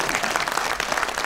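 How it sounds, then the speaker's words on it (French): Short burst of audience applause, steady dense clapping from a crowd at a comedy or political satire show, loud and continuous throughout. "On peut applaudir maintenant"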